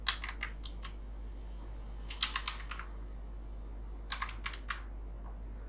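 Crisp keyboard clicks in quick bursts of several keystrokes separated by short pauses, from typing into a software search box on a computer keyboard, close and fairly quiet with no voices.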